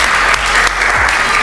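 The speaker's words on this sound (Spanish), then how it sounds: "un aplauso para ustedes también por estar ahí en el equipo de Descarga" An audience applauds loudly at a recording or premiere event, a dense, close, continuous wash of clapping that fills the whole moment.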